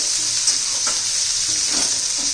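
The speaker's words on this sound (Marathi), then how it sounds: "आणि आपण चिरलेला उभा केलेला कांदा चांगला परतून घ्यायचं आपल्याला" Sliced onion sautéing in a pan for amaranth greens, a steady close sizzle throughout with a few soft stirring scrapes, no voices.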